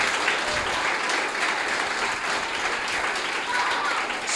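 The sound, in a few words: congregation applauding in church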